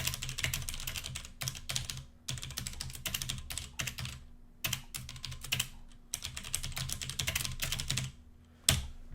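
A computer keyboard gets typed on in quick, uneven bursts of close clicking keystrokes while C++ code is entered, with short pauses between runs and one louder key strike near the end.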